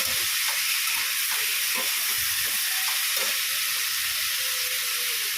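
Dry red chillies and a green chilli frying in hot oil as the tempering for a Bengali curry, a steady close sizzle and hiss with soft stirring clicks throughout.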